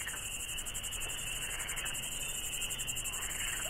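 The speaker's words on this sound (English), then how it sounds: "All you can hear is frogs and crickets in the woods." Dense, continuous cricket chirping fills spring woods in a steady pulsing chorus, with no voices or other sounds.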